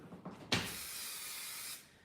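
An aerosol spray can sprays during a DIY wall makeover: after a few faint clicks, a sudden close hiss runs steadily for just over a second, then cuts off.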